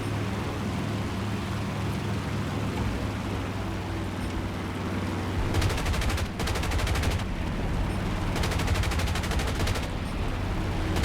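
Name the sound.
aircraft guns firing at ground targets in War Thunder video game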